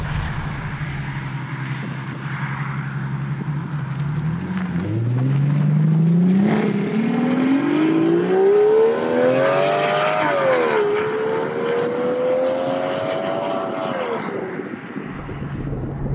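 A V12 car with a straight pipe exhaust pulls away, its low idle swelling into a loud, rising wail through the gears, dipping at a shift and then climbing again before fading out abruptly.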